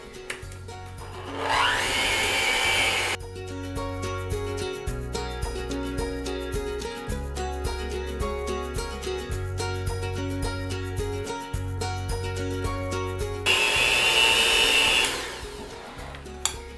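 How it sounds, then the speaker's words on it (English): An electric hand mixer beats butter and sugar for a lemon bundt cake, a steady loud motor whine running throughout that shifts in pitch as the beaters work the mixture. "beat the butter and sugar together until it's nice and creamy and fluffy"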